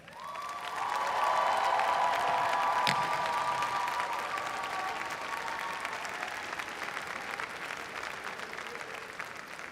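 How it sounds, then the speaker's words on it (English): A large graduation convocation crowd applauds for a sustained stretch, swelling quickly into loud, dense clapping with some cheering, then easing slightly while continuing steadily in a big hall. "Could you please give a big round of applause to your supporters?"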